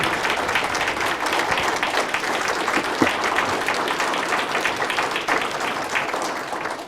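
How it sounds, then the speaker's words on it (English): A crowd applauds the participants of a Black history essay and oratory contest, with sustained, dense clapping that stays even and fairly loud for several seconds before easing slightly at the end. "Can we give a round of applause to all of our participants?"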